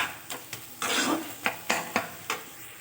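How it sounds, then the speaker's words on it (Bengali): Cooked beet greens are stirred in a pan with a spoon or spatula, giving close scraping strokes against the metal in an uneven rhythm over a soft sizzle. "এবার এগুলো ভালো করে চামচ বা খুন্তির সাহায্যে ঘেঁটে দেব।"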